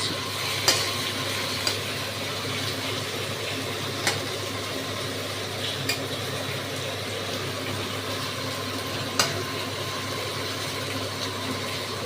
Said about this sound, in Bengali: এইবার এর ভেতর দিয়ে দেবো পেঁয়াজ কুচি। এগুলো খুব ভালো করে ভাজবো